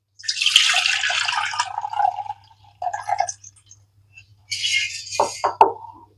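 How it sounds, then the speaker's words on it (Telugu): Flattened rice (poha) being rinsed in water in a kitchen, heard as several close splashing, sloshing bursts separated by short pauses, ending in a few sharper drips and slaps. "ఇలా శుభ్రంగా ఒకసారి కడిగేసుకోవాలి"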